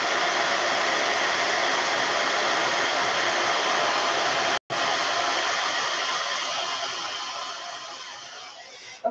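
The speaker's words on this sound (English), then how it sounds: "If your hair dryer is not completely destroyed like this," A worn hair dryer blows a steady, loud whooshing drone while drying paint on fishing lures, cutting out for an instant midway, then fading slightly before switching off.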